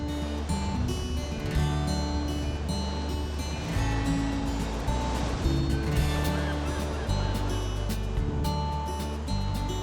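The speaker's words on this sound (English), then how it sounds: "The Pointe du Vent points its crumbly rocks into the ocean waves." Atlantic waves break against the crumbly rocks of the Pointe du Vent on the jagged Brittany coast, a continuous surf roar beneath music.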